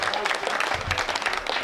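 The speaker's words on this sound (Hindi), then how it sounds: "तालियां बजाओ, थोड़ा सा लगना चाहिए।" A brief burst of audience applause at a Hindi comedy poetry show, crowd clapping densely and fairly loudly with a murmur of voices mixed in.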